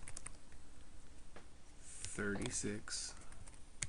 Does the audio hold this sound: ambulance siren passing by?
no